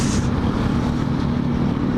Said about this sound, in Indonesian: sepanjang jalan yang berisik adalah motor kecil